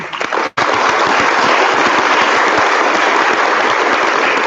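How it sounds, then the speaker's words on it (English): A heartfelt round of applause for a panel on addressing inequalities, loud and close, with densely packed sharp claps forming a continuous crackling roar after a brief gap at the start. "give them a heartfelt round of applause"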